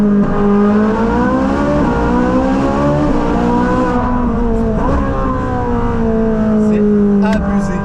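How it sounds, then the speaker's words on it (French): A Ferrari engine roars loudly and steadily in a tunnel, its deep harmonic tone holding for several seconds and rising and falling slightly as revs shift, close and filling the space. "on achète une Ferrari pas que pour ses performances mais surtout pour le bruit"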